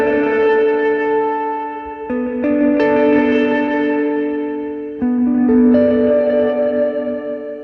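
A guitar played through an Old Blood Dark Star v2 pedal rings out in sustained, shimmering chords with long reverb tails and ambient delays, each new chord swelling in over the lingering wash of the last, with no voices.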